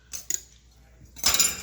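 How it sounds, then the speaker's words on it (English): A spoon clinks twice against a bowl, then scrapes and rattles briefly as dry ingredients for a maple walnut cake are mixed together. The taps and scraping are short and close. "Mix this together with a spoon."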